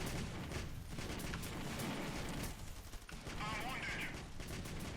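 Rapid bursts of video game gunfire shooting at swarming locusts, dense and continuous across the whole stretch, with voices talking over the shooting.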